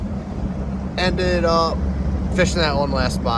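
A bass fishing boat idles on Toledo Bend with a low, steady engine rumble running underneath someone talking throughout.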